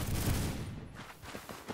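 Gunfire in the Roblox first-person shooter Phantom Forces, a dense burst of shots at the start followed by a few sparser, softer pops, all fairly quiet.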